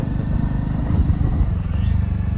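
A motorcycle rides along a jungle track with a continuous, loud, low engine rumble that stays steady throughout and has no clear revs.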